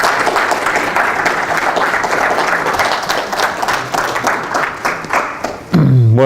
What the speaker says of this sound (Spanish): un aplauso, pues.